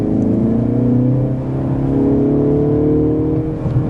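A Mercedes CLE 300 accelerates, its engine note climbing steadily and loudly in pitch through the gears, heard from close by for nearly four seconds with no talking over it.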